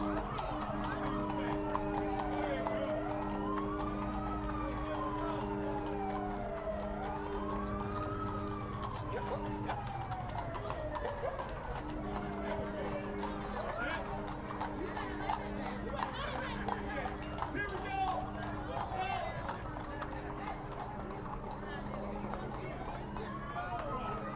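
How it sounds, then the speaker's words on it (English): Horses' hooves clip-clop along a street in the 2021 Farmers Day Parade in Ellerby, North Carolina, a steady patter under rising and falling siren wails and ongoing talk. "no Farmers Day Parade would be complete without an appearance by some horses"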